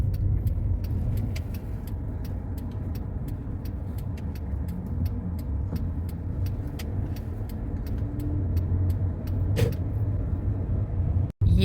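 A car driving along a road in the resort village of Shtormovoe, with steady engine and tyre rumble heard from inside, plus faint ticks and clicks over the continuous drone.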